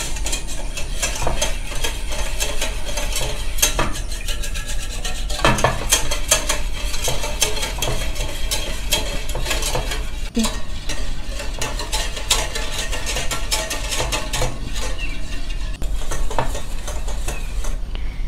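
Cornstarch mixture being stirred in a pot while it heats toward a boil, a steady close scraping and swishing of a utensil against the pot with frequent clacks and knocks, continuous and fairly loud, with no talking.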